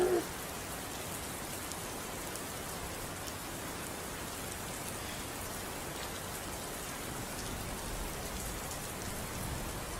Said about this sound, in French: Alors, on entend la pluie